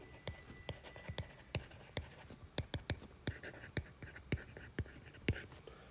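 Pen writing math on paper, a close series of sharp scratchy strokes and taps in irregular bursts, fairly faint, with no talking.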